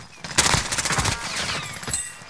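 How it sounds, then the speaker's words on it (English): Video game gunfire in a multiplayer battle royale shooter, with rapid automatic bursts and single shots ringing out in quick succession, loud and close, no talking. "Somebody else is shooting them."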